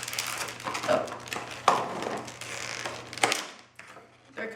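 Plastic scraping and clicking as the back panel of a Rosewill RHB-341-GREY USB hub is pried and slid out, a close series of rough rasps and snaps over several seconds.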